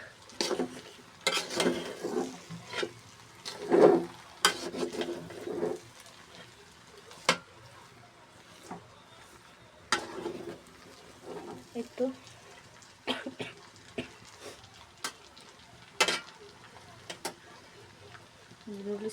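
A utensil stirring vegetable noodles in a pot, irregular scraping and clinking strokes with soft sizzling between them, close by, with a voice talking over parts of it.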